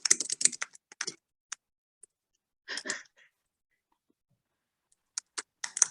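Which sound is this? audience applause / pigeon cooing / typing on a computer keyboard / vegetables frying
typing on a computer keyboard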